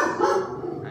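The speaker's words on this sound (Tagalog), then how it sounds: "Sensya na sa aso." A dog gives one short, close bark that fills the brief moment on its own.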